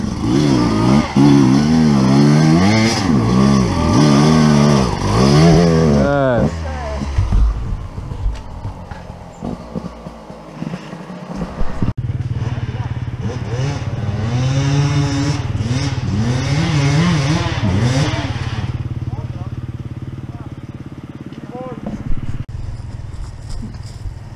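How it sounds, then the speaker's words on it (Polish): A two-stroke hard enduro motorcycle revs hard on a mountain training ride, its engine climbing and falling in repeated loud, close bursts before settling into a sustained wavering drone. "Moc dwusuwa."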